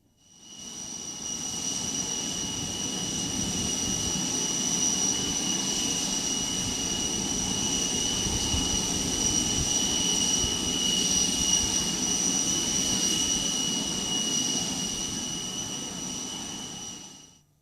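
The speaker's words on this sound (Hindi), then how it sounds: "इसी वक्त एयर इंडिया का ये स्पेशल प्लेन भी लैंड किया है, तो शोर भी होगा" An Air India special plane's jet engines roar steadily on the tarmac after landing, loud and close, with a high sustained whine riding over the broad rumble and swelling then tapering off near the end.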